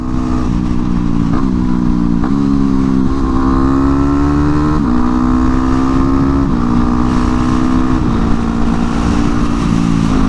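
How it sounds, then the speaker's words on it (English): A motorcycle engine holds a loud, steady note, then drops pitch in stepped downshifts with short throttle blips to match revs while braking, close and continuous throughout. "when you go to blip the throttle after you're braking, it's just going to slip down into the next gear"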